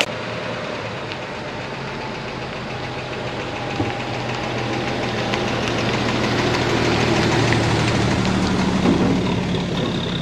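A 1952 Chevy engine runs steadily at idle, a rough, even mechanical rumble with a faint knocking rhythm that grows slightly louder toward the end, with no talk over it.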